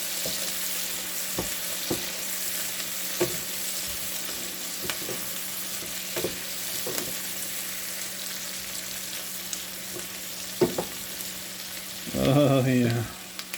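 Low carb Philly filling sizzling in a pan as it is stirred, a steady fry with scattered scraping taps, and a short burst of speech near the end.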